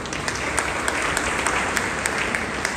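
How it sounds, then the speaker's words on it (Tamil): A church congregation at a Tamil Lutheran service breaks into dense, even applause that fills the room at a strong, steady level throughout. "எல்லாரும் நமக்கே நாங்கள் கைதட்டுகிறோம்"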